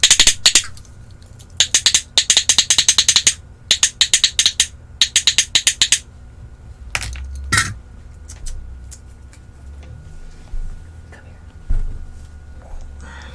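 A plastic pet-training clicker is snapped in quick bursts of sharp, close clicks, grouped in rapid clusters over the first six seconds, followed by a few scattered handling knocks and thumps.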